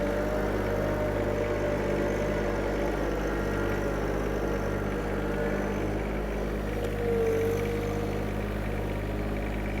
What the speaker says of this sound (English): I love this little tractor for doing stuff like this